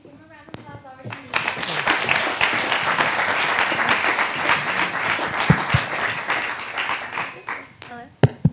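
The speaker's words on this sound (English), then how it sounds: "give them a round of applause" Audience applause for speakers closing a startup co-founders event, steady dense clapping building over about eight seconds with a few voices and brief noises at the start and end.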